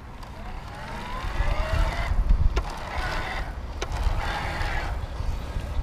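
A low electric bike motor hum at full assist on a Gazelle Arroyo C8 HM that rises and falls with pedaling, joined by mechanical whirring and a couple of sharp ticks; no voices.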